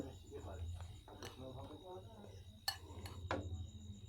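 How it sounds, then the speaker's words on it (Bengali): Chickpeas being tossed and mixed with cumin powder and chilli powder in a bowl for a Bengali chickpea snack, giving soft scraping and a few sharp utensil clinks against the dish, with a voice talking over it. "এবার মাখিয়ে নিচ্ছি সব কিছু"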